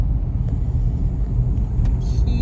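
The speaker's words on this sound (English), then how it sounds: "I'm in Gogo's car, and Gogo's taking me home to meet my parents." Interior of a moving car on a drive home in Ahmedabad, with a steady low road rumble and engine drone throughout and a few faint higher tones near the end; no talking.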